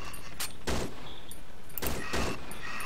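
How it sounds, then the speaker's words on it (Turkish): Several loud gunshots from the horror video game Cry of Fear crack out in short bursts, two shots early and a close pair near the end, over a constant background hum. "Ben şimdi headshot atacağım."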